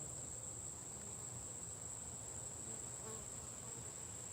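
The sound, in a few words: bees buzzing around a bucket of water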